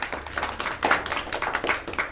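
Gallery spectators at a golf tournament's 18th hole clap on a spring afternoon, a thin patter of a few hands in quick irregular bursts, faint and with no voices.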